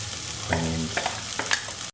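Ground roasted coconut mixture with spices is sautéed with shallots in a pan, giving soft scraping stirs and a faint sizzle, with a few short spoon clinks near the end, all fairly quiet and without talk.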